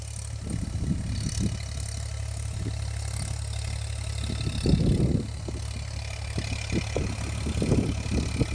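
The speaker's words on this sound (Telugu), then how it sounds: "ఈరోజు ఈ ట్రాక్టర్ మా చేలోకి వచ్చాక" A tractor engine idles steadily throughout in a farm field, with a deep rumbling hum and occasional louder surges, close by with no talking.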